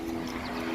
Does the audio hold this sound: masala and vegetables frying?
no